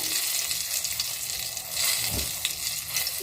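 Green chilies frying in hot oil in a pan for a mustard hilsa curry, a dense continuous sizzle with a faint scrape of stirring partway through, close and steady.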